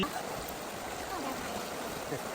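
Water runs steadily during washing, a close, even rushing hiss that holds without a break for a couple of seconds.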